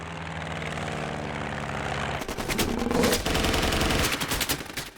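Biplane battle from the 1933-set King Kong film, with a droning propeller aircraft engine giving way to bursts of rapid machine-gun fire and roaring engines, loud and dense.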